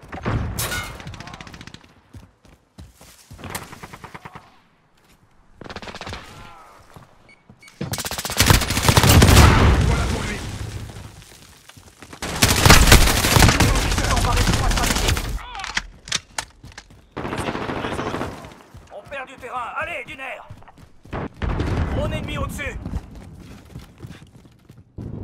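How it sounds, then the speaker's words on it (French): Gunfire from an M4A1 with an integral suppressor in Call of Duty: Modern Warfare: rapid bursts of muffled shots mixed with louder volleys and clattering, in irregular bursts separated by quieter stretches. "me fais tirer dessus"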